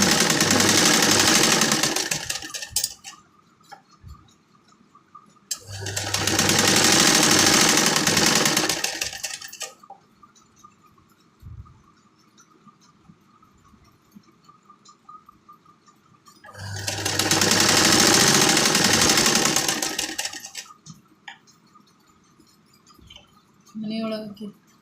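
Sewing machine stitching the double-folded edge of a saree pallu, running in three short, loud bursts separated by quieter pauses.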